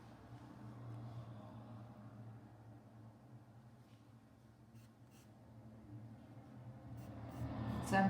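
A pencil drawing on paper, with faint, soft scratching strokes over a low background hum, the strokes growing louder toward the end.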